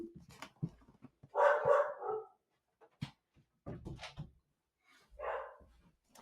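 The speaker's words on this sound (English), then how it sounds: "My dog hates delivery drivers, so you're going to hear her barking for a bit." A pet dog, a female, barks indoors at a delivery driver in short bursts with gaps between, fairly close and moderately loud, mixed with whimpering and panting sounds.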